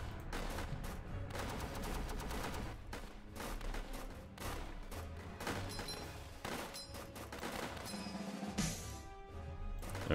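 Rapid machine gun fire crackles steadily through a World War tower defense game, dense overlapping bursts over a constant battle din, with a brief low hum near the end.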